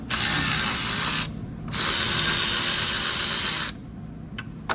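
A ratchet loosens a bolt on a Ford 3.0 engine with two long bursts of rapid, loud clicking separated by a short pause, then a few quieter isolated clicks, close up and with no speech.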